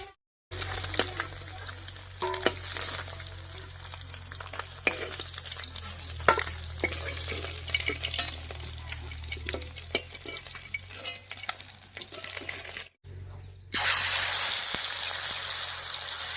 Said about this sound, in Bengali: এই মাছ কটা ভাজা হয়ে গেছে, এবারে নামিয়ে নিচ্ছি